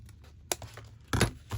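Paper being cut for a journal makes a few quiet, close snips and crisp rustles, irregularly spaced over a faint background, the loudest cluster near the end.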